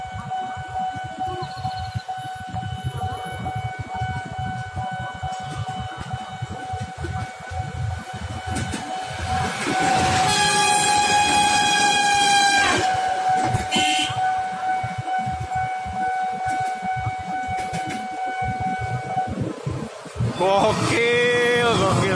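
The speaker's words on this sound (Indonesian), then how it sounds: "Ih, ini kereta apa nih? Ada sirinenya." An MTT train rolls past a KRL level crossing at Pramuka with a steady rumble while a siren-like whistle and crossing alarm tones ring over it, growing louder mid-clip with a sharp high burst near the end.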